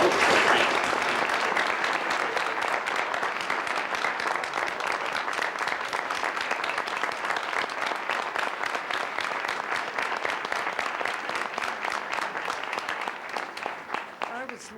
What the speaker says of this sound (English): I think we would all give them a round of applause